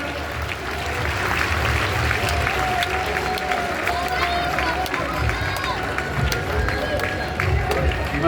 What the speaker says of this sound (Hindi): तालियां द्वारा अभिनंदन बहन जी के मंच पर पधारने पर।